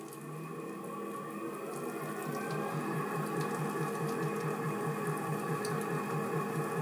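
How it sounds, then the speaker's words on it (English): KYS PRO Baker 5 Plus stand mixer running at its full 400 RPM, a steady, fairly quiet motor whir with a faint rhythmic pulse from the turning bowl, continuous and alone. "I'm going to turn this right up to full, which is 400 RPM."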